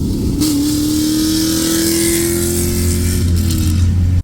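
A small-block Ford 302 V8 in a 1966 Mustang revs up loudly and smoothly, pitch climbing steadily, then drops back to a deep rumbling idle, close by.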